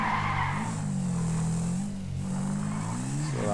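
KTM dirt bike with upgraded brakes in the game GTA 5, a loud droning engine with a skidding screech as it brakes, steady with a brief dip midway and a rising tone at the end, with no talk.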